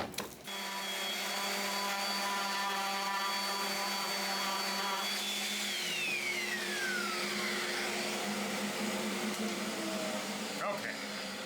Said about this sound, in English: I'm just going to do a quick cleanup sand on it because, like I said, I've got some pressure marks from the clamps